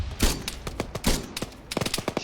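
Gunshots from Arma 3: rapid close shots in an irregular volley, a couple of heavier blasts followed by a quick run of sharp cracks, loud and dry with no voices.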